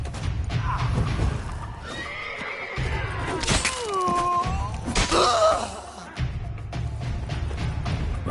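Horses whinny and neigh in The Witcher 3, several sharp rising calls in the middle of the scene over a low rumble and hoof clatter, with no talk.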